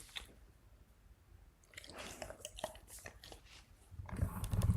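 A young child chews on something not meant to be chewed, making faint, close, wet crunching and squishing sounds. The sounds grow louder and denser toward the end.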